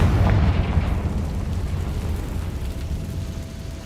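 A Confringo fire-blast spell goes off in the Hogwarts Legacy video game, a loud booming explosion that rumbles at the start and then decays slowly into a lingering roar over nearly four seconds.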